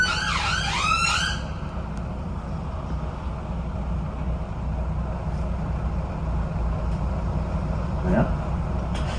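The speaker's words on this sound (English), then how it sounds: "I think I'll just let this ambulance go by." An ambulance siren wails loudly at first with rising and falling sweeps on a Liverpool street, then fades into steady traffic rumble as the vehicle moves away.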